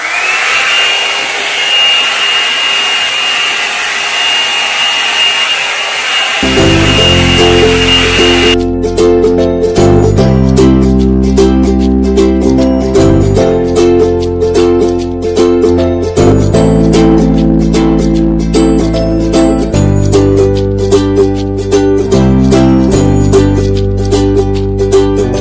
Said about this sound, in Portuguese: eu vou vir com essa escova aqui. Que ela seca e alisa.